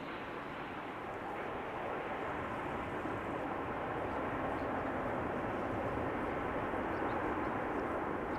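A plane arriving at Amsterdam Schiphol Airport, heard as a faint, steady, broadband jet roar from a distance that swells slightly toward the end.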